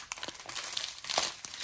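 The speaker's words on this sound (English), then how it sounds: "Sorry for the crinkles, guys" Packaging crinkles close up as a diamond art kit is unboxed, a busy run of crisp rustling and crackling bursts over under two seconds, with no voice.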